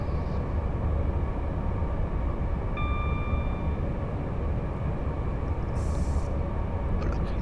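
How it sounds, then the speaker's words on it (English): Pendolino train rushing past while overtaking a Class 350 on the Euston to Milton Keynes line in Train Sim World 5, a steady loud rumble of rolling stock with a brief high tone midway. "Pendolino. Oh, we're getting overtaken by one."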